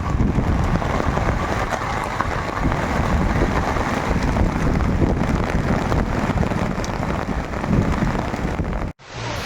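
Steady heavy rain pours loudly and continuously on a campsite during a storm, with some wind mixed in, cutting off abruptly near the end.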